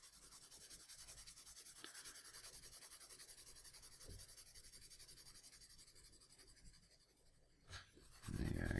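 Soft, quiet scratching of a 4B graphite pencil on paper, continuous rhythmic back-and-forth strokes heard up close, ending with a brief louder bump.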